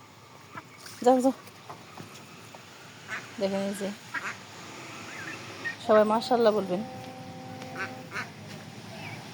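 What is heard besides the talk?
ducklings quacking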